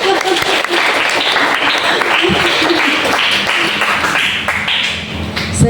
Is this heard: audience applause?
yes